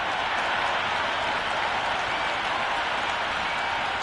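A cricket crowd applauds before a T20 match gets underway, giving a dense, steady wash of clapping and crowd noise that carries evenly for several seconds with no breaks.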